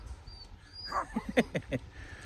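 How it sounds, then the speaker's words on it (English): A dog barks at a bottle lying on the ground outdoors near a fenced yard and gate: a quick run of four or five sharp, fairly close barks after a quiet start, with soft background hiss. "He's barking at the bottle."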